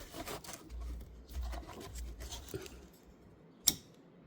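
A Ford Explorer power liftgate strut snaps together with a single crisp click, preceded by soft rubbing and handling noises up close.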